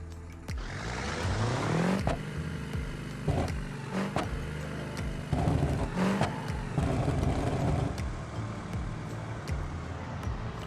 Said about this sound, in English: This is just a very loud engine.